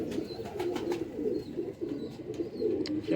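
Teddy pigeon cooing on a loft, soft repeated throaty rolling coos close by, with faint higher chirps from other birds around.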